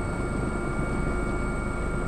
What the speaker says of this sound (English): Don't shoot the chopper.